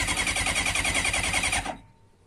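A Kawasaki ZZR motorcycle, started for the first time in the 2020 season, runs with a fast, even, pulsing engine beat for under two seconds before cutting out abruptly into near silence.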